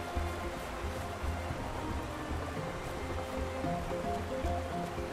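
Steady rushing waterfall in the video game IfSunSets, a broad continuous wash of falling water heard close and fairly loud, with no voices over it.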